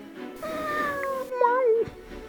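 A cat meows close by, drawn out and wavering, with a second, higher meow following, while a person talks softly in the background.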